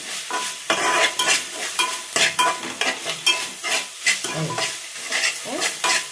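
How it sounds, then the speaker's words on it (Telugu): A small amount of rice frying in a pan with ginger and garlic for bagara rice, rhythmic spatula stirring and scraping over a continuous sizzle, close and moderately loud, no talking. "కొంచెం రైస్, అందుకే కొద్దిగానే వేస్తున్నాము. మంచిగా వేగాలి."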